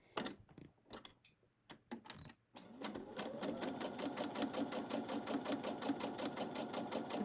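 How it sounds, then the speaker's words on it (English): Sewing machine chain piecing fabric for a half rectangle triangle quilt block: a few separate stitch taps, then a steady fast running hum and needle clatter, close and loud. "you just sew multiple pieces without breaking your thread in between"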